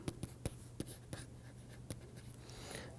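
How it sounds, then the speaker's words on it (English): Chalk or pen writing out a matrix on a board during a mathematics lecture: a quiet series of sharp taps and short strokes in an irregular rhythm, heard alone with no talk. "so let me also write down that matrix form."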